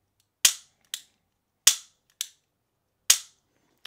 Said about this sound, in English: we'll rack the slide, check reset